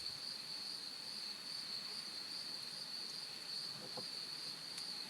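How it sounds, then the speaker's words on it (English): Steady high insect chirring, like crickets, fills the background continuously at low level, with faint hiss and no voices. "I don't know if you can hear the crickets"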